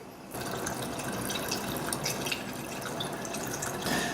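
Kombucha pours steadily and close by into a bottle after a brief quiet start, a continuous splashing trickle filling the container.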